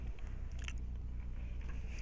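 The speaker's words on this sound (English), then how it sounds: "Eating some pretzels right now. Because pretzels are the best. That's what the crunching is." Pretzels crunch between the teeth during eating, a steady run of close, dry chewing crackles and bites, quiet and without any talk.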